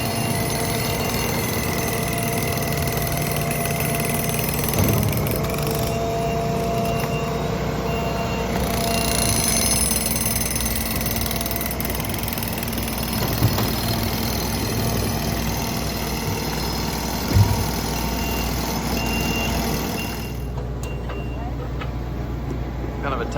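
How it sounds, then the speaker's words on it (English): A large skid steer works in a tight space while building a retaining wall, its engine droning steadily and loudly under a faint repeating beep, with a few knocks and clunks and some talk over it. "Kind of a tight space for a large skid steer like that"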